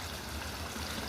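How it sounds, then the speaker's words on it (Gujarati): Irrigation water running steadily across a dragon fruit farm in the morning, a continuous close trickling, gurgling flow with no voices. "તો આ જુઓ પાણી જાય છે, તો અત્યારે સવારમાં આપણે ચાલુ કર્યું છે।"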